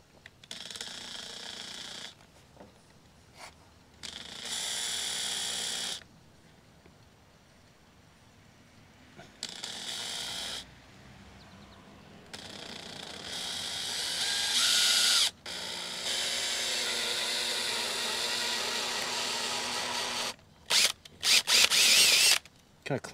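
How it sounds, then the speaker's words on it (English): A power drill whirs in several bursts of varying length, grinding into the metal of a Ford Super Duty diesel truck with pauses between runs, close and loud. "right behind this little lip right here is where I'm gonna start drilling."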